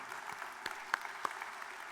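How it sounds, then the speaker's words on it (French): Faint, steady clapping from a conference audience at an opening plenary session, with a few sharper individual claps standing out now and then. "Je crois qu'on peut l'applaudir"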